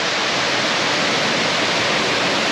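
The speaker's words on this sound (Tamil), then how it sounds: "இதான் ஃபால்ஸ்." Waterfall at Ariharanathi Falls near Tenkasi, a steady, full roar of falling water with dense broadband rush throughout, close and loud, with no voices over it.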